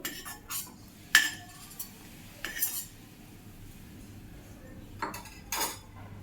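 Fried cashews are lifted out of a pan with metal utensils, making a few distinct clinks and scrapes against the pan over a faint background sizzle, with no talking.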